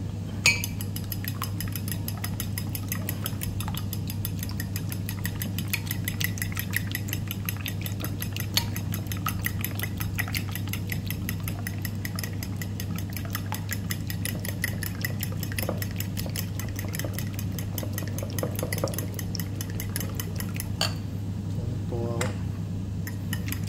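Eggs are beaten in a bowl, giving a fast, steady stream of light clinking and whisking taps that runs the whole time over a constant low electrical hum.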